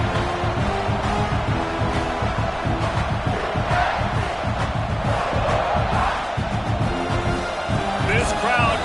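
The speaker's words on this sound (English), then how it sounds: "This crowd going to try to make life miserable for these guys." Stadium crowd noise from an American football video game: a constant, loud roar of cheering spectators running the whole time beneath steady commentary.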